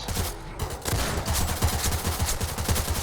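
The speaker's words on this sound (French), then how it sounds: "le Bauer 50, qui est l'un des meilleurs snipers du jeu" Repeated gunfire from the Bauer 50 sniper rifle in the Roblox game Zombie Uprising, a dense run of sharp shots and impacts filling the clip, loud and continuous with no talking.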